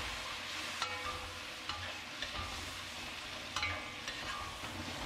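Chili bean paste and soy sauce stir-fried in a wok, with a steady close sizzle and scattered light scraping clicks from stirring, no voices.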